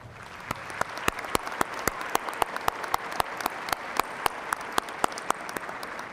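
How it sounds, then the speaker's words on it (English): Sparse, evenly spaced hand claps from a small group at a university fall commencement ceremony, each crisp clap distinct and fairly close, continuing steadily without speech. "generous round of applause"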